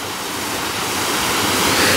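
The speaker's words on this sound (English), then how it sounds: "with the waterfall." Steady, dense rush of a waterfall in Somerton Combes, loud and continuous with no pauses, swelling slightly toward the end.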